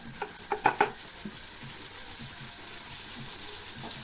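Spices hit hot oil for an aubergine and potato curry, a short burst of clattering as they drop in, then an even, hissing sizzle that carries on alone.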